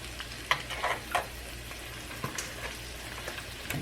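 Grits stirred in a pot while cooking, soft bubbling and sizzle with a few scattered scrapes and taps of the spoon, quiet and close over a low steady hum.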